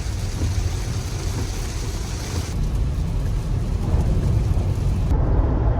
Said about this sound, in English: another rainy morning here in Nashville, Tennessee